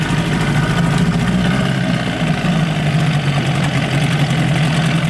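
A 1988 6hp Johnson Evinrude outboard motor idles in a test barrel, giving a steady, loud, low droning putter that holds even throughout with no voices.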